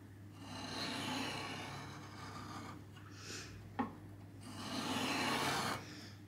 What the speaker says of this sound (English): I'm gonna start cutting, establish my kerf with a lot of pressure going towards the fence.